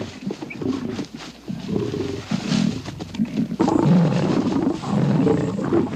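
Male lions roar and snarl while fighting over a lioness, deep rumbling growls rising into loud, sustained, overlapping roars close by with no break in the noise.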